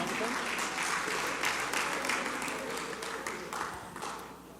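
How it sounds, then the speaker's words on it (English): Audience applause at an AVL expo presentation, a dense, steady roar of many hands clapping that fades slightly toward the end, heard from within the crowd. "come on, let's give a warm round of applause, James Hurley from Hillsong."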